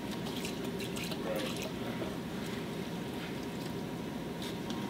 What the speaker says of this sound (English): You need to drain the recovery tank, and here's the drain hose for that tank.